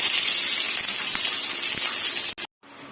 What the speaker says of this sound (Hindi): तेल रे रसुन के भाजी दबा